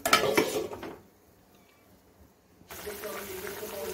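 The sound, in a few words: stirring tengra fish curry, then covering pan with lid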